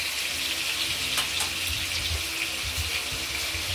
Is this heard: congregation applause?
no